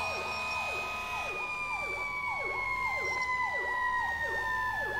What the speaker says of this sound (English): Oh my god, Raph didn't even do the power call siren right. It's not a GE, and it also loops really weird